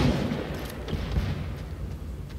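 Video game gunfire during a trios match, low booming rumble of shots and impacts under a busy, dense mix, moderately loud and continuous for a couple of seconds without clear separate bursts.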